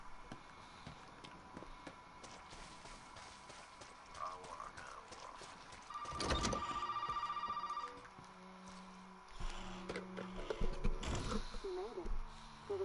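Telephone ringing inside a PS4 horror video game, a sustained electronic ring tone held for a couple of seconds mid-clip over a quiet ambient game background, with a few other faint game sounds around it.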